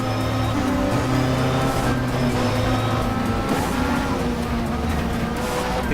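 A Lada race car engine in the racing game Race 07 drones steadily throughout, its pitch rising and shifting with gear changes, loud and continuous amid other cars running close by.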